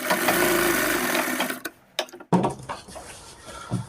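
A sewing machine stitches along the zip of a half-elastic pant, running in one steady whirring stretch before stopping, then starting again in a few short bursts.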